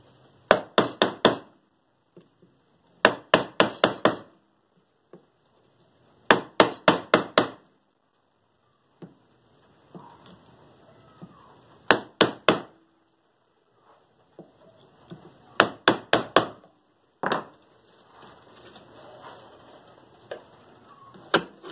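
A one-inch wood chisel is struck to cut a recess for a flush handle, producing bursts of three to five sharp mallet taps in quick succession, repeated in clusters with quieter scraping between, close by.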